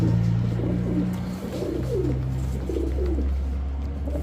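Chocolate racer pigeons, kept in pairs, give soft, throaty coos in repeated rolling phrases close by, over a constant low background hum.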